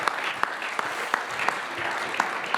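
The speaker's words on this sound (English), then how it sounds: "yes, please, applause" Applause from a conference audience at a façade design event, a light, moderate patter with a few sharper claps standing out, fairly steady and somewhat distant.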